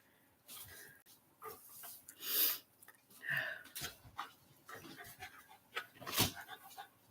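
A new puppy pants and snuffles in quick breathy bursts close by, with a few soft whimpers and sharper rustles, fairly quiet overall.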